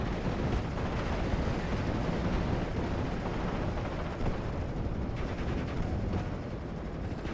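Machine gun fire in the World War II strategy game Steel Division 44, a dense, continuous rattle of rapid shots and distant battle noise running steadily throughout, with no voices.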